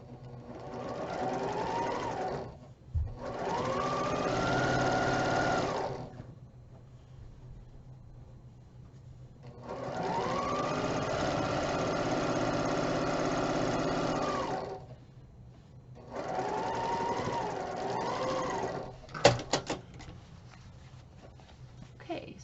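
A sewing machine stitches quilt fabric pieces in four bursts of fast, even whirring, each lasting a few seconds with quiet pauses between them. It is close and clear, with a soft click near the end.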